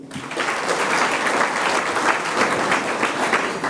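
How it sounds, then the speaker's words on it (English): Audience at a Nairobi marketers' night event applauds its keynote speakers, a dense, steady burst of clapping from a large room that holds at full strength for several seconds without fading. "A clap for them, please."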